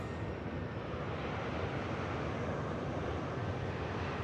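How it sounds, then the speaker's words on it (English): An Airbus A330 airliner departing Manchester Airport, a continuous broad rushing roar that holds steady throughout, distant and partly wind-blown. "just cleared the way for this 330 departing now."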